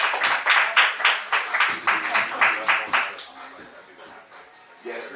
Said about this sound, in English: Y'all clap your hands for Sarah Newell.